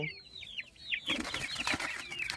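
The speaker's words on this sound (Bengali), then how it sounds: "এই যে আমাদের আগের মুরগির বাচ্চা 3টে আছে" Young chicks kept on a rooftop chirp in quick high peeps, then scuffle and flutter as they move about and feed in the cold, close by and fairly quiet.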